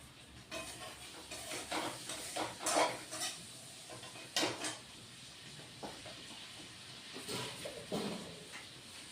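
Green chillies are dropped into a pan for a fish curry and stirred. Soft, intermittent clinks and rustles come over a faint, low sizzle, quiet and close, with uneven gaps between strokes.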